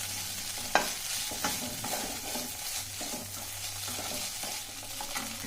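A spoon stirs avakaya atukulu, poha tossed with mango pickle, in a pan on the stove. Soft scraping strokes repeat steadily over a faint sizzle and a low hum, close and moderately quiet, with no talking.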